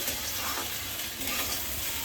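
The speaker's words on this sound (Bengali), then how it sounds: "চালটা ভাজা হতে থাকুক" Rice fries steadily in a pot for chicken tehari, giving a dense, even sizzle and crackle that runs close and loud for the whole short stretch with no voices.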